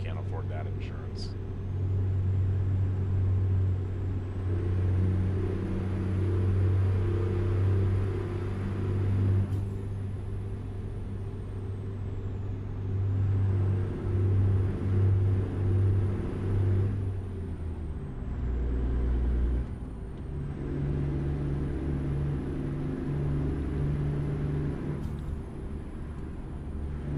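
Custom Peterbilt 379 semi truck in American Truck Simulator, its engine a steady low rumble and drone throughout, loud and close with a brief dip near the middle; someone talks over it.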